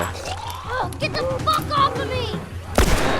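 A single loud gunshot bangs near the end in The Last of Us Remastered, preceded by game sounds and someone talking.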